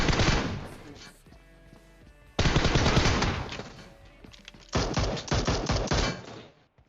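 Three loud bursts of rapid automatic gunfire in PUBG Mobile, each a dense rattle that fades before the next volley, with a faint voice underneath.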